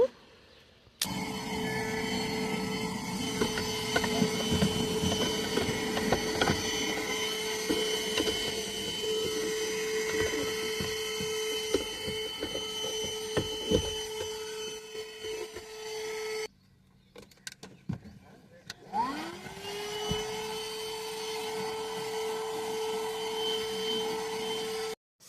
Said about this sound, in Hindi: ये है वो अगारो की vacuum and it's very nice for car cleaning